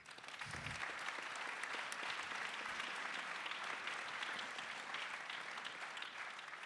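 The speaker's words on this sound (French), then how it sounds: "Je crois qu'on peut même les applaudir un petit coup." A forum audience breaks into steady applause for the event organisers, a continuous, fairly distant wash of clapping with no talking.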